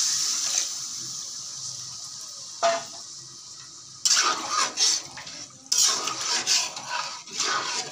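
Water tipped from a bowl into a cooking pan while making muri ghonto, a fish-head rice dish, with splashing and clatter in loud bursts after a quieter stretch of kitchen noise.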